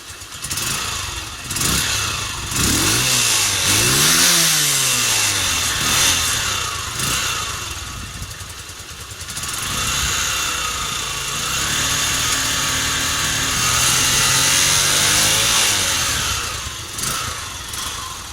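An RKS RK 125 motorcycle engine revs up and down several times, around 2000 to 3000 rpm, pitch rising and falling in sweeps over a rough, loud mechanical drone.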